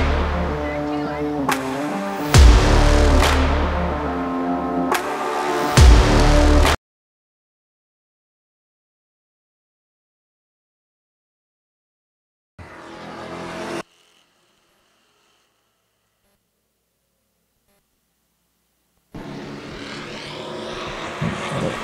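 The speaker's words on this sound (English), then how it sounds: "I hear the Super Streets feature number two firing them up pit side" Super Streets race cars fire up their engines pit side at a racetrack. A loud, continuous engine roar with revving swells cuts off abruptly, then brief further bursts of engine noise return after long silent gaps.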